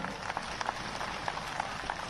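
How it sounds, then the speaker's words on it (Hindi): A crowd at a BJP farmers' rally in Ujjain applauds for Modi, a faint, distant wash of clapping that is steady and continuous, with a few sharper claps standing out. "मोदी जी के लिए एक बार जोरदार तालियां हो जाएं"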